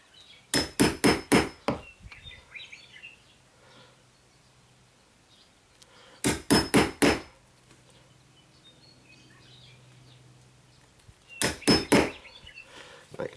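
Hammer tapping a deadbolt strike plate into a door frame, three clusters of four or five sharp, evenly spaced knocks separated by quiet pauses, close and loud, with faint birdsong in the background.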